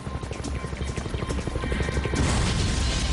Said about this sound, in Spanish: Antes de despegar, un equipo vuela el helicóptero accidentado